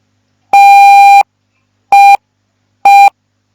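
Three clean electronic Morse tones at a steady pitch, one long dash followed by two short dots, loud and isolated against silence.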